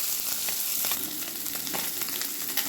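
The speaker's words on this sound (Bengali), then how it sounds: "মাছ ভাজবো সবসময় গ্যাসের ফ্লেম মিডিয়ামে রেখে।" Small puti fish fry in a pan over a medium gas flame, giving a steady, close crackling sizzle with scattered pops and spits throughout, no voices.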